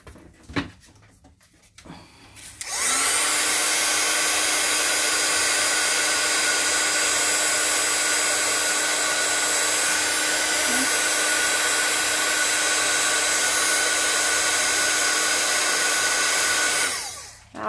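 A heat tool blasts hot air to melt white embossing powder on stamped paper, a steady loud whirring roar that switches on after a couple of seconds of quiet handling and runs continuously before cutting off.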